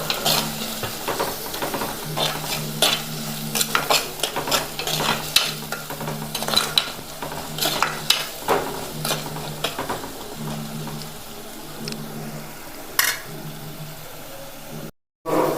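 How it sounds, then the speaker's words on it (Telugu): Onions with a little salt sautéing in a clay pot, a steady close sizzle under frequent scraping stirs and clinks of a spoon, continuing evenly with a brief dropout near the end. "ఉల్లిగడ్డలు మగ్గటానికి కొంచెం ఉప్పు వేసుకొని ఉల్లిగడ్డలు మగ్గించుకోవాలి"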